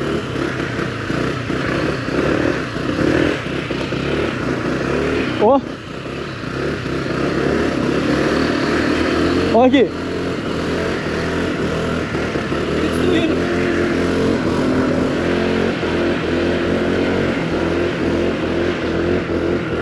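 A Honda PCX 2023 scooter engine runs steadily at close range, a continuous idle hum with two brief dips, while someone talks over it.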